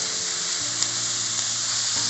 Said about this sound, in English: Our port wine. We're going to deglaze our pan